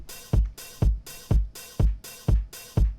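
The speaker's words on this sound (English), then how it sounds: "So let's just hear the kick in this house hat here." House-track drum pattern of kick drum and hi-hat alone: a steady four-on-the-floor thump with a crisp offbeat hat between each kick, looping evenly for several beats with no voices.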